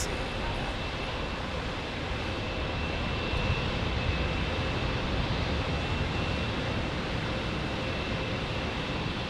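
A United Airlines plane takes off in San Diego, giving a steady, moderately loud engine roar heard from a distance without letup.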